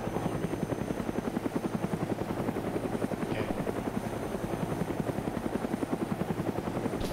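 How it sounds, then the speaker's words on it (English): A helicopter in the DayZ video game beats overhead with a steady rapid rotor thump, moderately loud and continuous throughout, with no talk over it. "the helicopter's putting the shits in me"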